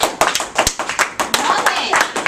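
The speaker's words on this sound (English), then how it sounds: "Give him a round of applause." A classroom of students gives a quick round of applause, with scattered, uneven claps rising and falling under children's voices and chatter.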